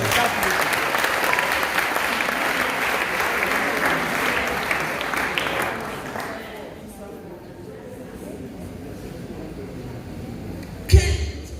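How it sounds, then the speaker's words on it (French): A church congregation bursts into loud, sustained applause and cheering to acclaim the Lord. The clapping fades after about six seconds into a quieter room, ending with a single loud thump near the end. "Est-ce qu'on peut acclamer le Seigneur?"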